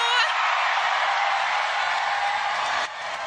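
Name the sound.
crowd cheering at tennis match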